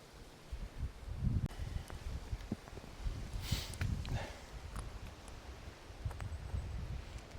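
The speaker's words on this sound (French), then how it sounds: "il y a un bon vent ici." Gusty wind on a hike up Mount Pisgah buffets the microphone with low rumbling bursts, and faint rustling comes and goes through the clip.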